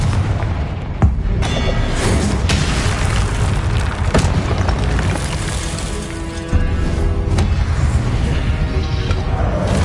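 The Confringo blasting spell in Wizard Quest sets off heavy, booming explosions, dense and loud, with sharp impacts punctuating a continuous roaring wash of blasts and debris noise.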